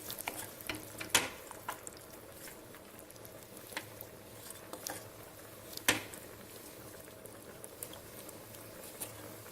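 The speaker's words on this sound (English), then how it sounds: "Now mix it well." A spoon stirring spices and allspice powder into chicken biryani curry gravy, faint soft scraping and patter with a few sharper clinks against the pot, quiet and close.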